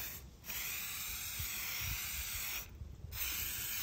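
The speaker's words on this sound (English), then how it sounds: "I'm giving them a light-ish spray, but I'm going to go over again just to make sure that it is all covered" Water-resistant spray hisses from a can onto crochet pieces outdoors, a steady close aerosol spray with two brief pauses between passes.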